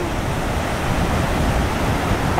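Atlantic Ocean waves washing onto the shore in a steady broadband rush, close and continuous with slight swells, wind noise on the microphone, and no speech.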